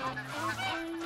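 A flock of geese in the hunting game theHunter: Call of the Wild on the Revontuli Coast honks in overlapping nasal calls, several birds sounding together, close and prominent.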